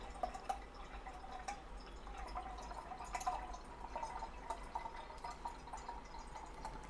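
A thin stream of water from a Berkey water filter trickles and drips steadily into a container, a soft continuous splashing with occasional louder drops, close by.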